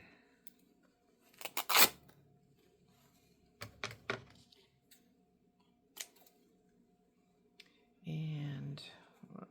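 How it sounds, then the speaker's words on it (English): Paper torn by hand for a snippet roll craft, a couple of short close rips with scattered handling clicks, then a longer rustling tear near the end. "So let me rip this"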